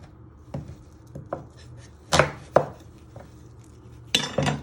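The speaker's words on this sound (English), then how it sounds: "Then you're going to chop both your other ends off." A knife chops the ends off an onion on a cutting board, a handful of sharp, separate knocks with brief pauses between them, close and clear with no talking.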